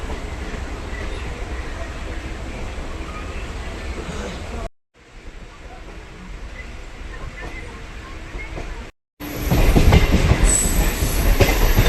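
Darjeeling Mail train at Sealdah station, a steady loud rumble of rail cars. Two brief cuts break the sound, and it returns louder and closer at the end.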